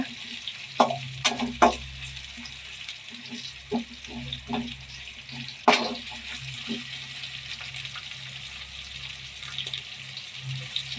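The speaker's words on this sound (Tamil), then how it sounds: "வெங்காயம் வந்து நல்லா வதக்கிக்கோங்க" Onions frying and being stirred in a pan, with a steady sizzle and scattered sharper scraping and clinking strokes from the spatula, fairly close and without talk.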